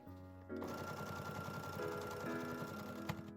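A sewing machine stitches the side and bottom of a cow-hide-look bag's lining, starting after a brief pause and running at a quick, regular rhythm, close and quiet with no voices.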